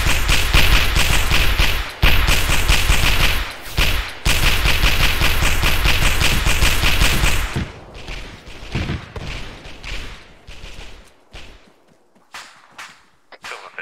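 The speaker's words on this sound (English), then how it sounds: "Oh, shots." Gunfire in the military video game Arma 3 at an artillery position, a dense sustained burst of loud rapid shots that breaks off into scattered, fainter single cracks and thuds with a few murmured words.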